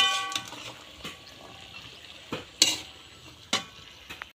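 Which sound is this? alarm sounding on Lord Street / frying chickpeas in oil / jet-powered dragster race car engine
frying chickpeas in oil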